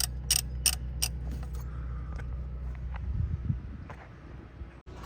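Close-up mechanical clicks and metallic rattles of a 12 mm bolt being loosened on a Toyota 2UZ-FE V8 in a Land Cruiser during alternator and power steering work, followed by quieter handling noises as the bolt comes out.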